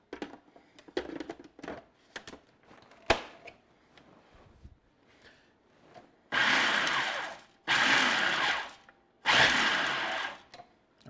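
A food processor pulsing basil, walnuts and garlic for pesto, three loud whirring bursts of about a second each with short pauses between, after some quieter clicks and handling.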